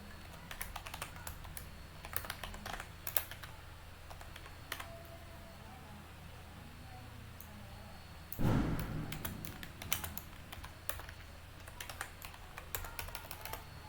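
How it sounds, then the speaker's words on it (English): Quiet, close keystrokes clatter on a computer keyboard in irregular bursts over a low room hum, with one brief louder thump partway through and no talking. "let me just type it back in"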